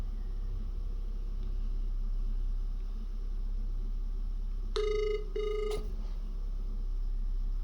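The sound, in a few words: phone ringing on an outgoing call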